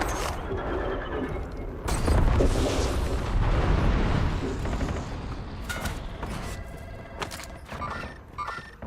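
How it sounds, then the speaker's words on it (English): A precision airstrike in a video game lands with a heavy booming blast that rumbles for a couple of seconds, then fades into a lower roar broken by sharp clattering bursts. "Precision airstrike ready for target."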